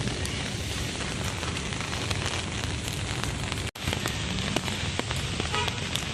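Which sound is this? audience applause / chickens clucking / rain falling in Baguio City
rain falling in Baguio City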